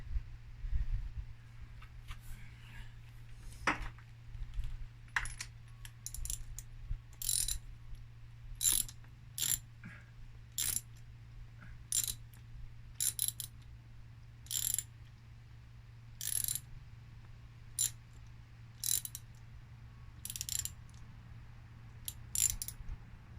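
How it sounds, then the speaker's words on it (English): A spark plug wrench ratchets in short, close bursts of crisp clicking, repeated with pauses over a quiet background. "Stupid freaking spark plug wrench"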